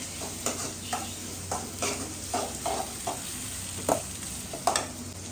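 Soft sizzling of three onions frying in oil for tin fish curry, with a utensil scraping and stirring the pan in a steady, repeated rhythm.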